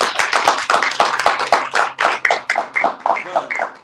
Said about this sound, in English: Give the Most High round of applause.